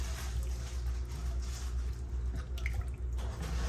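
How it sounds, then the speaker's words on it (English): Tripe broth for Puerto Rican mondongo being poured back into a pot, a soft continuous liquid pouring with faint drips, heard quietly up close. "we're going to add that broth back into the pot and get everything a good mix"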